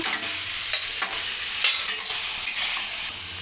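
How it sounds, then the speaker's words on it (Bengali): A utensil repeatedly scrapes and knocks through a sizzling rice mixture with fruit in a pan, a close, irregular rhythm of stirring over a constant fry. "একটু নাড়িয়ে নেব"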